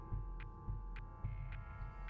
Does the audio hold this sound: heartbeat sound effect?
yes